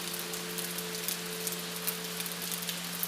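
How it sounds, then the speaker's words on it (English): Soft, steady rain falls in an even, continuous hiss, gentle and unbroken, with a faint low hum underneath and no voices. "ambience with soft, steady rain is the main sound"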